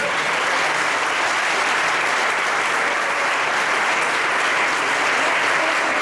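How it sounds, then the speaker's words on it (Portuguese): Congregation applauding during an Assembleia de Deus church emancipation ceremony, a steady, even wash of many hands clapping that continues unbroken at moderate loudness throughout. "A igreja, salva de palmas para Jesus"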